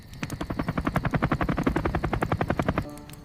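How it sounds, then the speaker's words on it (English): Rapid rhythmic thudding of helicopter rotor blades overhead, loud and close, a steady chopping pulse that cuts off abruptly near the end. "It is a helicopter. Up there."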